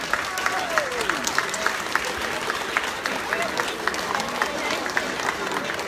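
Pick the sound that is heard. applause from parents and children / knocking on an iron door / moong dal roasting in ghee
applause from parents and children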